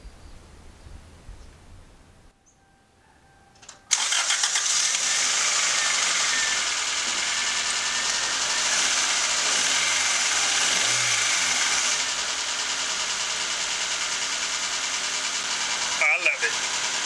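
A Toyota 7AFE engine starts after a spark plug change and settles into a steady, even idle, loud and close, following a few seconds of quieter background noise.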